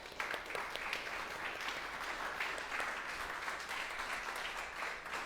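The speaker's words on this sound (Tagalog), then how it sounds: "Palakpakan po natin si Jesus." A church congregation applauding in praise of Jesus, a continuous crowd of hands clapping with some individual claps standing out, somewhat distant and faint, with no voices over it.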